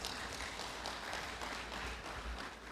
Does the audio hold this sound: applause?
yes